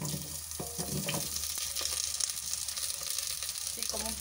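Pumpkin, carrot and onion frying in hot oil in a pan give a steady, close sizzle with crackling pops, and some stirring runs through it.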